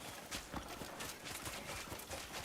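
Wild horse hooves clopping in the open world of Crimson Desert, a steady walking rhythm of soft thuds under a dense, noisy game ambience, fairly faint and continuous.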